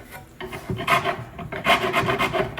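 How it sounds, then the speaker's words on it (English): Old glue being scraped and rubbed off the tenons of wooden furniture, a series of close, rasping strokes in a steady back-and-forth rhythm with no talking. "So now we're going to just clean up the tenons."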